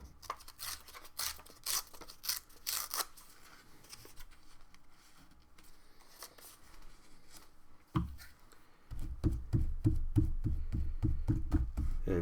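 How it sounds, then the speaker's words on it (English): Paper torn by hand during a mixed-media art session, a series of short rough rips in quick bursts early on, followed later by a steadier rustling scrape, all close and fairly quiet with no talk. "I'm going to rip this one."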